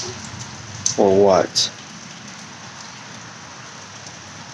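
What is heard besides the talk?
rain falling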